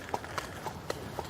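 Hooves of a horse clip-clopping at a castle, about five crisp, evenly spaced strikes at a walking pace, close and moderately loud, with no talking.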